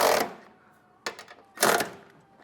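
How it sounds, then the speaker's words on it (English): A 19mm socket snugs bolts on a Curt trailer hitch receiver being fitted to a 2024 Chevrolet Traverse, giving three short metallic clicking, ratcheting bursts close by with pauses between. "Now we'll take a 19mm socket and snug these up."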